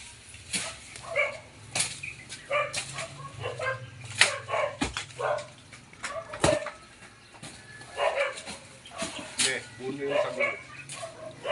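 Dogs bark and yip in scattered bursts, some sharp and close, while people talk in the background.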